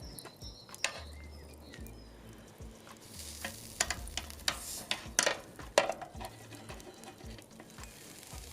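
Large lamb shashlik pieces, back leg and saddle cuts brushed with oil, sizzle over hot coals on a grill, a faint crackling hiss dotted with small pops and scattered clicks, no voices.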